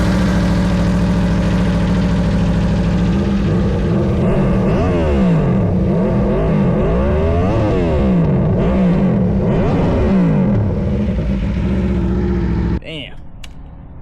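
A 2012 Aprilia RSV4 motorcycle engine held on launch control, loud and close, sustained high revs with rising and falling pitch swells before cutting off abruptly near the end, voices faintly under it.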